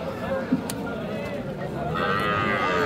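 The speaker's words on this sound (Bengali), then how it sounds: "এই যে এই গাভিগুলি কিন্তু সুন্দর।" Friesian cows at the Raniganj cattle market in Dinajpur moo amid a busy crowd, one sustained low call heard close under a steady murmur of voices and market bustle.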